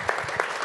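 Applause from the audience at a health awards ceremony honouring gurdwara volunteers who ran oxygen langars, a steady clapping crowd heard alone at moderate level.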